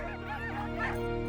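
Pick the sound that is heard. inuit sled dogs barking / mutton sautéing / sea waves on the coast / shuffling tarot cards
inuit sled dogs barking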